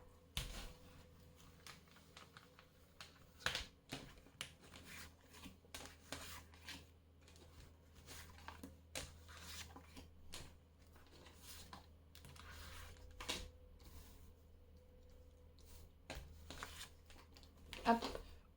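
Large tarot cards are handled during a reading, producing quiet, close papery taps, flicks and slides in scattered bursts over a low room hum, with occasional soft talk.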